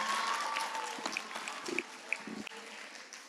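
An audience at a youth center parent night claps in a brief round of applause that starts fairly strong and thins out, with a few sharp individual claps and some crowd murmur.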